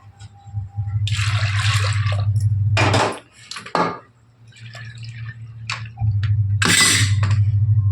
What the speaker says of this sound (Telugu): ఇప్పుడు ఫ్రెష్ వాటర్ అయితే పోసేసుకొని